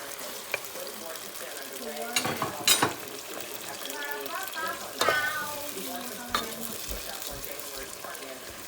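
Mixed vegetables and garlic sizzle steadily in a pan, with stirring scrapes and brief louder bursts of frying, while a voice is heard faintly in places.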